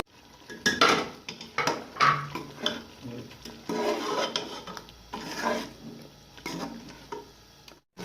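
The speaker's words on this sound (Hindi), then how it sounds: "अब इसे भुनेंगे तकरीबन 3 से 4 मिनट दरमियानी आंच में।" Onion paste with garlic and ginger frying in a pot over medium heat, stirred with a metal spoon that scrapes and clinks against the pot at close range in an uneven rhythm.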